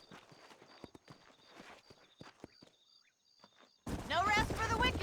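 Horse hooves clip-clopping at a steady walking rhythm in the video game Red Dead Redemption, moderately near, with faint ambient tones, followed by a loud burst of noise at the end.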